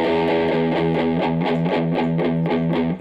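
A Samick GT-1 Flying V guitar through the fuzzy, muddy distortion channel of a 1982 Dean Markley RM-150-DR amp plays a repeating chugging riff, loud and sustained.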